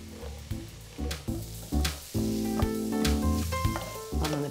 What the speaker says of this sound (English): So I'm just going to sauté those for about 10 minutes until they're really meaty and delicious and tender.